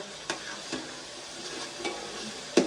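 Onions fry in a pan in a home kitchen, giving a soft, steady sizzle. A few spatula scrapes and stirring knocks come through, with a sharper clack at the end. No one speaks.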